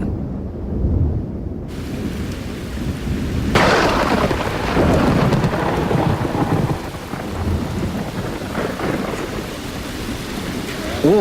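Steady heavy rain pours down over the Galapagos Islands with a low rumble of thunder rolling through, a dense continuous wash of sound with no voices.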